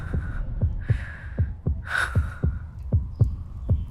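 A fast heartbeat sound effect thumps in a quick, steady rhythm of low, loud beats, about eight in under four seconds, with faint tonal sounds between them.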